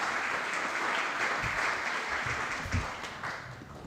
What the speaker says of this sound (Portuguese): uma salva de palmas para o Lucas